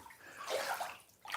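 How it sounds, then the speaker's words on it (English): Water in a swimming pool being pushed by hand, a soft brief sloshing swirl that rises and fades, faint and close with no voices. "I push the water, but I can't pull the water"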